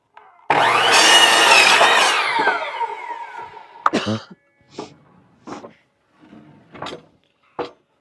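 A saw cuts shed lumber to length, heard as a loud, close cutting burst of about three seconds that fades out, followed by a clunk and several short knocks and thumps from handling the wood.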